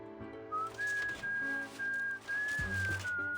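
A video game character in Reverse 1999 whistles a halting tune in a few sustained phrases, over a soft game background with low musical tones.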